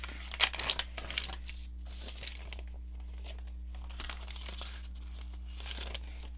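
Paper being folded in half while making junk journal pockets: soft crinkling and rustling handling sounds, a few sharper crackles early on, then quieter intermittent rustles over a low steady hum.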